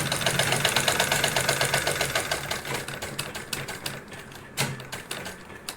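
A sewing machine stitching a saree, its rapid, even mechanical rattle running close and loud, slowing into separate stitch taps near the end with a brief pause and restart.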